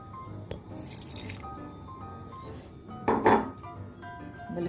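Cold water is poured from a tap into a mint lime juice mix of green chilli, cardamom, salt and lemon juice, a brief splashing gush rising clearly above low kitchen background noise before it settles.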